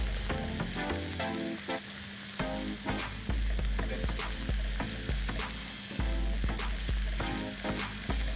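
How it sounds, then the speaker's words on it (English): Onions frying and browning in a pan with salt, a loud, dense sizzle with rhythmic scraping and stirring strokes from a spoon, heard close up and without any talking. "I'm going to add in salt and allow the onions to turn brown in color"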